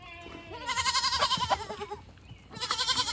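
A goat bleats loudly and close by during herd deworming, giving a long wavering cry followed by a second shorter bleat after a brief pause.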